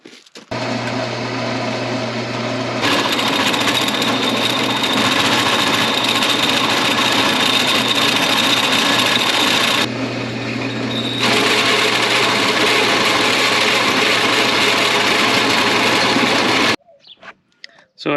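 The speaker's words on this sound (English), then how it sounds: "So after drilling with the hole saw" A power drill with a hole saw whines steadily in two long bursts with a short pause between, loud and close, cutting a 1¼ inch hole before stopping.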